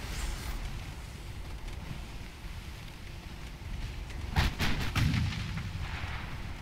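Heavy naval guns of a Japanese warship firing in the game Ultimate Admiral Dreadnoughts, a cluster of booming blasts rolling over a steady background rumble of sea and wind.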